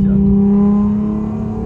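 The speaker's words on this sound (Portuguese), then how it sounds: "barulho desse carro é louco." A car engine roars loudly from inside the cabin as the driver downshifts, a strong, steady drone that eases off slightly toward the end, with no talk.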